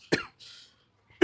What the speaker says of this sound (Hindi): बीच बीच में थोड़ा सा खांसी हो जाता है तो इग्नोर करिएगा